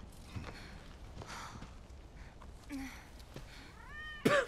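Cat in Final Fantasy VII Remake gives a sharp, rising meow near the end after quiet, faint rustling and soft sighing sounds, close and clear.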